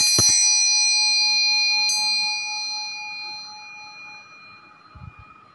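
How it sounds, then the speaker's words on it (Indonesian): A single bell strikes once at the start of a water-brewing ritual, its bright metallic ring and second overtone chime decaying slowly over several seconds with no talk. "saya akan mulai menyeduhkan air ditandai dengan bunyi tanda lonceng berbunyi"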